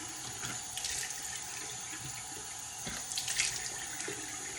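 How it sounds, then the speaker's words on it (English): A bathroom faucet runs steadily into a sink while a face is rinsed during a nighttime skincare routine, with a close, continuous hiss and a few louder splashes near the end and no talking. "So now I'm just gonna rinse."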